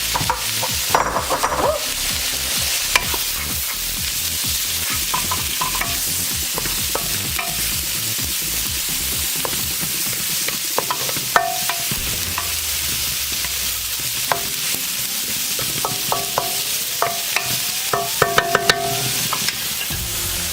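Savory oatmeal cooking in a pot is stirred continuously, a busy scraping and bubbling texture with scattered clicks of the spoon against the pot, close and fairly loud.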